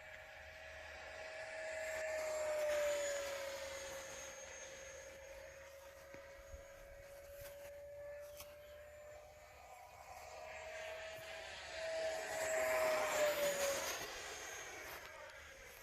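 A SkySword RC model jet flies past outdoors, its steady whine rising and falling in pitch as it approaches and recedes, loudest around the passes, continuous with no voices.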